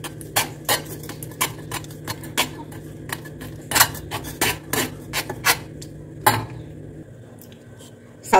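Soaked sago flour is pressed and scraped through a strainer with a spoon, giving a run of close, soft rasping and scraping strokes in an irregular rhythm, with a louder scrape near the end.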